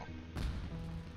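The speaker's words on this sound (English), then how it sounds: "Was that an explosion? It sounded like fireworks." A fireworks bomb in Genshin Impact goes off as a single dull, muffled thump with a brief burst, fairly close, then a low lingering rumble, with no talking.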